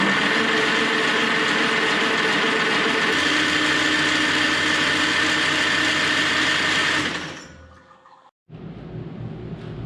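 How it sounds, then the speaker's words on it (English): A Farmall Super C tractor engine, freshly rebuilt, is cranked over on its starter: a loud, steady mechanical whir for about seven seconds that winds down to quiet, then a short burst of renewed cranking. "we're going to turn this over on the starter for 5 seconds here and see if we can get any oil pressure"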